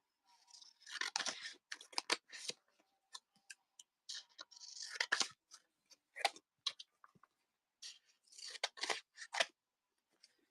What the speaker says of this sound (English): I just bought this pair of scissors, and I'm not very impressed with them.